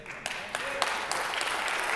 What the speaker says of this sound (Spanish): en este momento tendríamos que empezar a aplaudir